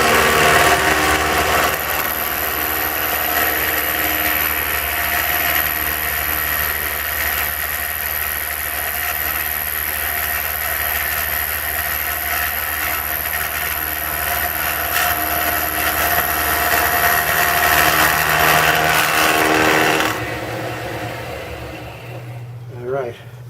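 A metalworking machine turns at 1000 RPM with cutting oil, cutting steel while making T-nuts. It gives a steady, loud whirring drone for about twenty seconds, then winds down near the end.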